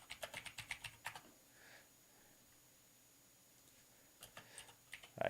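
Quick bursts of computer keyboard typing, a run of clicks followed by a pause and then a few more keystrokes, close and fairly quiet, with no talking.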